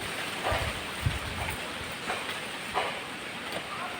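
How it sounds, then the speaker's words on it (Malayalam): Strong wind gusts through a home garden with a steady, rushing, fairly faint hiss that swells in a few brief gusts. "കാറ്റ് കേട്ടോ, എന്തൊരു കാറ്റ്"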